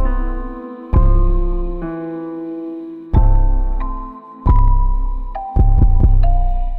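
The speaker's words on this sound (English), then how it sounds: "It's more punchy of an 808, and therefore the 808 is more controlled and less muffled than when it's uncompressed." A kick drum hits with a deep 808 bass under sidechain compression, four loud punchy thumps each followed by a sustained, ducking low tone that changes pitch, with no voices.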